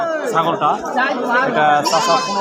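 A goat offered for sale for Qurbani at a livestock market bleats again and again, close and loud, while people chatter in the background.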